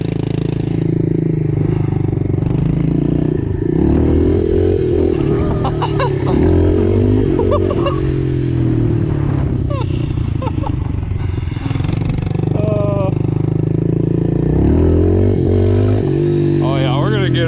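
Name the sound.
pit bike motorcycle being ridden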